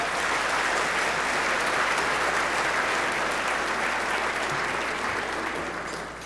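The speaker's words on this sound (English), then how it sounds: "Let's give our council members a round of applause." Audience at a town chamber of commerce event applauds council members with sustained, dense clapping that fills the room steadily, then fades slightly toward the end.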